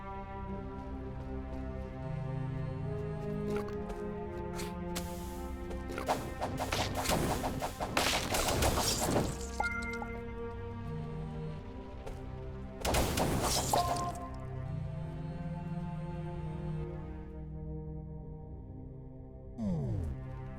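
Bombs going off in Starbound, a few loud bursting crashes around the middle of the clip, with one more near the end, set over a sustained musical drone.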